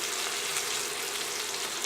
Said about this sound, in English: I'm going to continue to get that sear on the other part